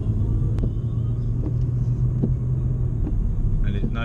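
A BMW M140i engine heard from inside the car, a steady low rumble with a few brief throttle blips rising over it, moderately loud throughout.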